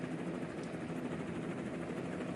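A helicopter flies above a cycling road race in light rain, its steady rotor and engine drone filling the whole span at an even, moderate level with no other sound standing out.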